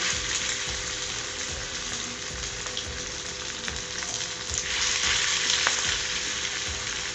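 Pakoras fry in hot oil with a steady, loud, crackling sizzle that swells slightly toward the end, with no voices.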